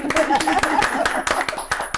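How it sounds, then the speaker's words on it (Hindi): Audience clapping for a woman contestant on a Hindi television quiz show, a steady patter of hands with a voice and musical tones running underneath. "तो आप भी जोरदार ताली बजाएं"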